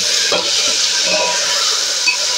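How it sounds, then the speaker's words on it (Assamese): Onions frying in a pan produce a loud, continuous bright sizzle close to the listener, with faint stirring movements underneath and no voices. "পিঁয়াজখিনি ৰঙচুৱা হোৱালৈকে ভাজিব লাগিব।"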